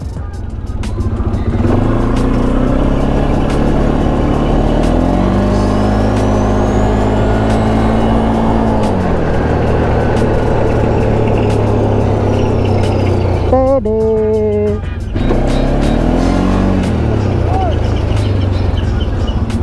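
A four-wheel-drive vehicle, a 450, rolls along on a Mayon black lava trail, its engine droning steadily close by with shifting tone and a brief dip near the end, while people talk over it throughout.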